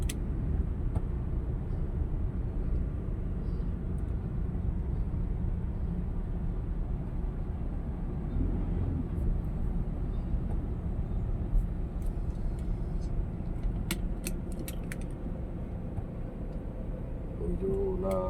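Road traffic on the Pasig Boulevard flyover, heard as a continuous low rumble of car engines and tyres, steady and fairly loud, with a few faint clicks near the end.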